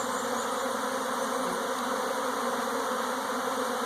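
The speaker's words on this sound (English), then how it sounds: "Bees absolutely love to swarm, though." A dense, continuous buzzing of many honey bees swarming, steady and enveloping, with no pauses or voices.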